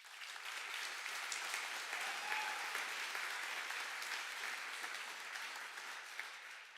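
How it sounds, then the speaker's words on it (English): An audience at a hackathon opening ceremony gives the jury a sustained round of applause: even, dense clapping from a large crowd that holds steady for several seconds, heard from some distance in a big hall. "Please also give a big round of applause for them."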